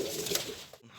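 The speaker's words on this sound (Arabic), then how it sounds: "حمام جديد فاشلة للناس" Newly acquired pigeons coo in a single soft burst, close by and fairly quiet over a steady low background hum.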